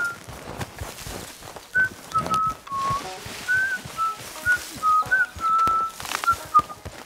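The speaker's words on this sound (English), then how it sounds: "Before we do Evelyn, there's a little bit of a whistling noise here" A series of short, clear whistled notes in the video game Red Dead Redemption 2 rises and falls in an irregular tune over soft background noise and occasional footstep-like thuds.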